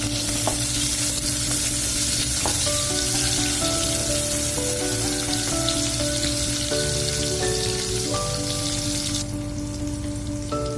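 Onion sautés in hot oil in a pot for coconut-milk shrimp, a dense, loud, rain-like sizzle running without a break under steady tonal background hum.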